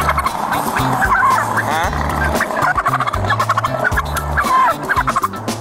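Loud, repeated gobbling from turkeys at a roadside traffic stop in Florida, rising in rapid warbling bursts over a low rumble of nearby traffic and road noise.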